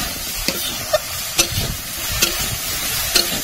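Fish with bitter gourd, okra, turmeric and salt sizzles in a pan while being stirred, with steady frying hiss and a few sharp scraping knocks of the spoon at irregular intervals, close and clear with no talk.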